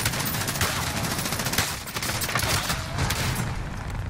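Dense, continuous gunfire in Call of Duty: Warzone, with many overlapping shots and crackling bursts forming a constant barrage. Faint distant booms mix in, and no clear speech rises above the noise.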